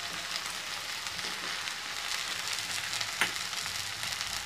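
Homemade sauces including tomato and soya sauce are stirred into a pan with Manchurian ivy gourd, giving a steady sizzle and frying hiss with a soft stirring scrape and one brief sharper clink.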